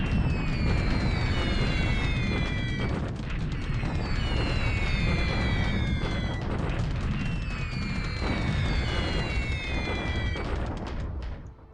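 Bombs pound an airfield in a World War II strategy video game, a dense roll of deep booms and crackling blasts with repeated whistling falls, loud and sustained throughout.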